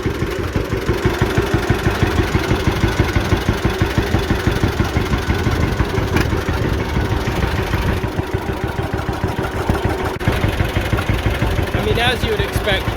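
A John Deere A tractor engine running in high gear while driving, with a steady, rapid, even two-cylinder pulse that stays loud and close throughout.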